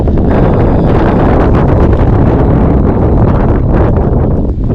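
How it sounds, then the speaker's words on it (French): Strong wind buffets the microphone in a loud, continuous roar of low rumbling gusts with no pauses, outdoors on a fishing trip after rain. "Il y a beaucoup de vent aujourd'hui."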